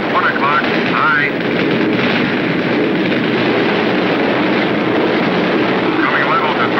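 Fighter planes fire 20-millimeter cannons in a loud, dense roar of engine noise and booming bursts, with a voice speaking over the steady din.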